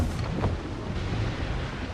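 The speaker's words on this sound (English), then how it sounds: "Storm there, Captain! Looks bad!" A thunderstorm at sea in Assassin's Creed IV Black Flag: dense roaring rain and wind with a low rumble of thunder, loud and continuous, with no speech.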